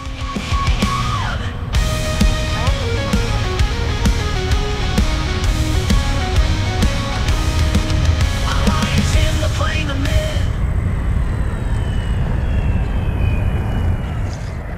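Two small autonomous ArduPilot model airplane engines whine steadily through the air, pitch sliding as they pass and descend to land, with wind noise, no talking.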